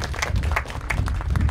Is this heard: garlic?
no